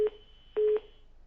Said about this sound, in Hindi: फोन लाइन डिस्कनेक्ट हो गई